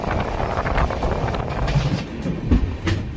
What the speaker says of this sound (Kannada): ಹರಿಹರ ರೈಲ್ವೆ ಸ್ಟೇಷನ್ ಇಂದ ನಮ್ಮ ಟ್ರೈನ್ ಬಿಟ್ಟಿದೆ